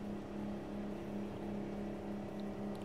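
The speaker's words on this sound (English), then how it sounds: "You like the sound of this truck, man?" Steady low drone of a Mack truck engine in American Truck Simulator, idling or cruising evenly at a constant pitch, with no speech over it.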